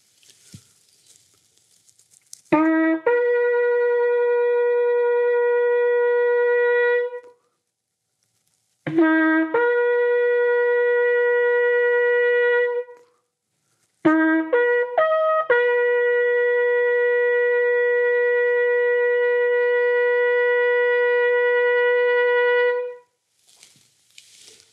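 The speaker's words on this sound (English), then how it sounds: "Can I blow this shofar" A shofar sounds three long, bright horn blasts separated by short silences. The final call opens with several quick broken notes before settling into a sustained tone that fades out.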